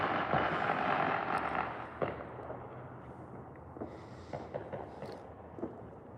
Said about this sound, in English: I'll wait for these fireworks. We can't see them. They're a little further away, but you can hear them.